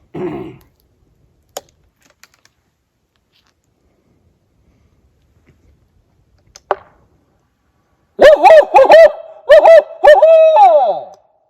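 A person imitates an owl with several hooting calls in a quick series after long near-silence broken by a couple of faint clicks, during a nighttime Bigfoot search in the woods of Randolph County, West Virginia.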